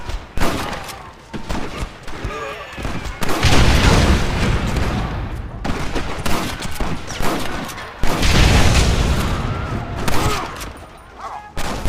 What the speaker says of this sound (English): Marston, what about the Gatling gun?